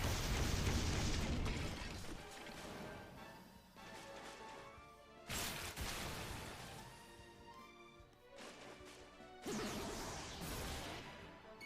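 Explosive crashes ring out in Dragon Quest XI, several loud bursts each followed by a fading roar, separated by quieter gaps.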